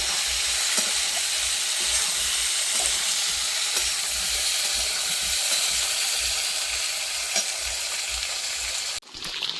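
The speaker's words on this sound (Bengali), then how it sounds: "এবারে মাছের ঝোলটা বসানোর জন্য আলুটা এই যে সুন্দর করে কষিয়ে নেব" Potatoes sautéing in a pan for a fish curry give a steady, close sizzle and crackle that runs unbroken and fairly loud, then cuts off briefly near the end.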